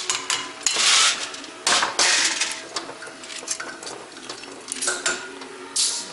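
Metal valves and small parts being worked out of a Volkswagen engine cylinder head, giving sharp clanks, clicks and rattles of loose metal at irregular intervals, close by and with no speech.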